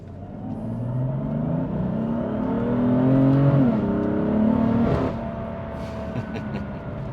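High-mileage BMW M3 with fresh spark plugs accelerating hard under full throttle, engine note climbing steadily through the revs, then a gear change and a lower, fading drone; heard from inside the car, no talking.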